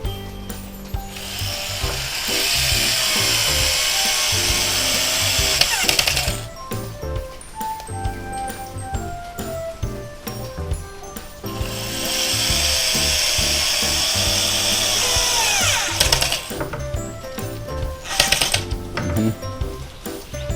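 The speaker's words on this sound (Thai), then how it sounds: "ก็เอาสกรูขันเข้าไปเลย" A screw being driven in while assembling a woodworking corner clamp, giving long stretches of rapid ratcheting clicks from a ratchet-type driver that stop and restart, with brief pauses and handling knocks between them, close and fairly loud.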